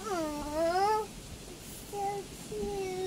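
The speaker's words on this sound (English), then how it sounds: "Look at the kitty." A pet cat meows a few times at home, the first call longer and rising, followed by two shorter, softer meows, fairly close and clear over a quiet room with no talking.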